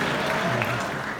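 Dense, steady applause from a large audience at a film Q&A fills the moment, a continuous wash of clapping at moderate volume.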